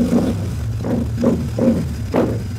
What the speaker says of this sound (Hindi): इसकी आवाज सुनिए, ये मेरा फेवरेट साइलेंसर है मैट ब्लैक के अंदर, पाउडर कोट के अंदर, स्टेनलेस स्टील में